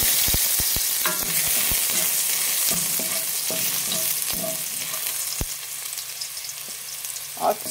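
Garlic sautéing in a pan for a fish sarsado sauce, giving a steady frying sizzle punctuated by sharp clicks and knocks of a utensil against the pan.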